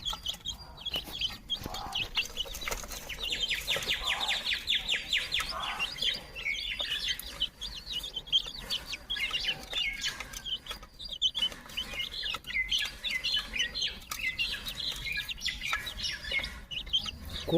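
Young chicks at feeding time give a steady stream of high, busy chirps and peeps, close and continuous, with a few clucks among them and no talking.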